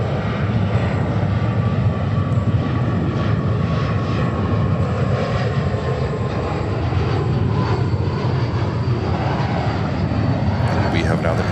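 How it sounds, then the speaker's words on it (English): A Delta airliner on flight 2390 comes in to land on runway 4 left at New York JFK, a loud, sustained engine roar and rumble that stays steady throughout. "And then we have another Delta, 2390 coming in on 4 left."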